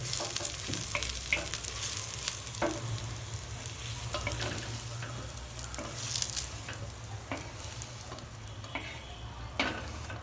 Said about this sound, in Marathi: हे बघा, कांदा आणि लसण असा चांगला मस्तपैकी परतलाय